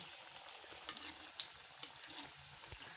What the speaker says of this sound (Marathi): असेच तेलात सोडायचे आणि मस्तपैकी गुलाबी रंग येईपर्यंत त्याला तळून घ्यायचं